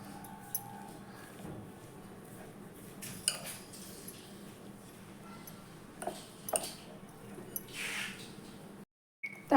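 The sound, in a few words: mixing spice powders and coriander leaves in a bowl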